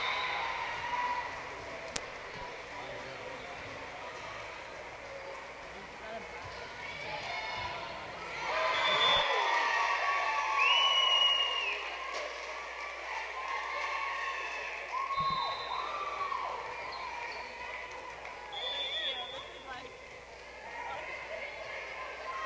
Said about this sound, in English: Great crowd here today for this match.